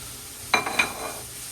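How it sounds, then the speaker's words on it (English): Peppers and onions drop into a hot pan with shaved beef, setting off a short, loud sizzling burst that quickly settles into a faint crackle, with no talking. "Now I'm gonna drop my peppers and onions in."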